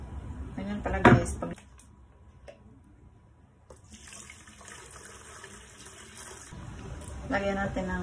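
Water is poured into a small room humidifier, a gushing, splashing fill that runs steadily for several seconds near the mic, with clicks and handling noise around it and a person talking before and after.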